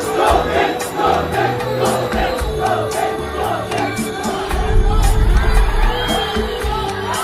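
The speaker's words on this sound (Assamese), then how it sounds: "মই আহিলে তেনেকে চিঞৰিলে ভাল লাগে।" A large crowd shouts and cheers at a Bhogali Bihu celebration, a sustained loud roar of voices with whoops and cries, swelling near the end.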